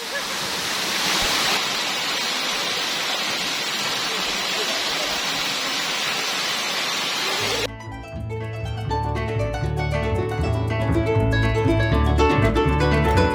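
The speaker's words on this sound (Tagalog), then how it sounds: "Welcome to Baluarte Waterfalls!" Baluarte waterfall in Salcedo, Ilocos Sur pours as a steady, dense wash of falling water, loud and continuous, shifting partway through to a closer, rumbling roar with a bright tonal layer over it.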